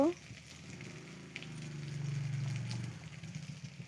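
Potatoes frying with onions in a pan, a soft steady sizzle that swells after the potatoes drop in, close and fairly quiet.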